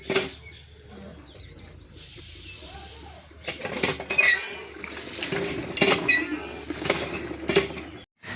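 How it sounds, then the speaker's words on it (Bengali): Water pours with a short hissing splash into a bucket where clothes are being soaked, followed by scattered clinks, knocks and sloshing as the clothes are handled nearby. "কাপড়গুলোকে এখানে ভিজিয়ে দিচ্ছি বালতিতে।"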